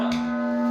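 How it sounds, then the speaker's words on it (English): A sales gong rung in an office sales room gives one sustained, steady metallic tone with a bright shimmering ring, heard alone and close. "Here's live gong in action."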